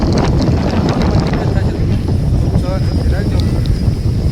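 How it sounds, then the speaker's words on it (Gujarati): Heavy, constant rumbling wind buffets the microphone in Bhavnagar, a loud low roar with no breaks from start to finish. "પવન બહુ ઝાઝો ઉડે છે"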